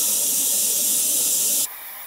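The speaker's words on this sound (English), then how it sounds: "go ahead and spray my base color," An airbrush sprays fluoro green base paint onto a steampunk skull, a loud, steady, close hiss that cuts off abruptly near the end, leaving a fainter airy hiss.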